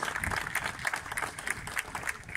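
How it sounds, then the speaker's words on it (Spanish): Applause from the audience at a bust unveiling ceremony in Puerto del Rosario, a moderate crowd clapping in a steady patter with no one speaking. "El aplauso."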